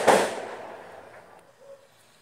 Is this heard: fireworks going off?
yes